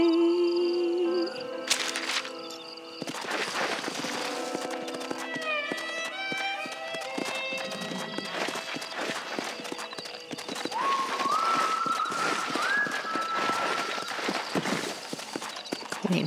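Rhythmic hoofbeats of a galloping horse in the video game Red Dead Redemption, amid game music and ambient effects, steady and continuous throughout, with a brief whinny-like tone.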